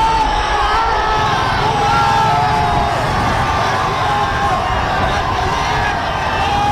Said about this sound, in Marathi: प्रचंड जल्लोष पाहायला मिळतोय